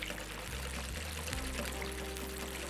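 About a tablespoon of water is poured into a yogurt mixture in a short, close pour with a shifting gurgling pitch. No one speaks over it.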